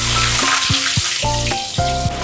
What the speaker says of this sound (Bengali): এবার আলুগুলো দিয়ে ভেজে নিই।